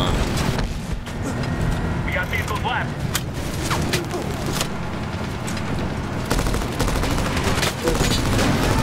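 Sustained gunfire in the video game Medal of Honor 2010 rattles on as a thick, continuous barrage of shots under a steady loud battle rumble, with bursts of sharper cracks and someone talking over it.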